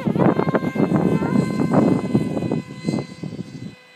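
A modified Hawksky RC airplane buzzes overhead at about quarter throttle, its propeller whine loud and close, pulsing slightly before dropping away near the end.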